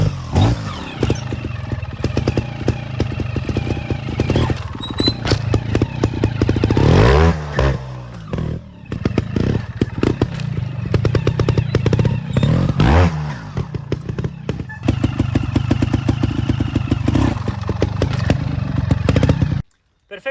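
Off-road motorcycle climbing over rocks with the clutch released for gear changes, its engine loud and close throughout, revving and dipping with shifts, while rocks clatter and scrape under the tires.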